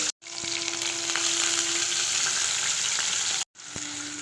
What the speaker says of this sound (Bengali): একটু তেলের সাথে এটাকে সাতলিয়ে নিচ্ছি